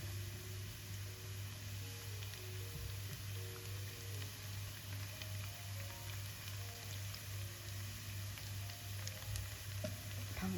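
Onions and beans fry in a pan with a steady, soft crackling sizzle throughout, alongside a constant low hum in the background.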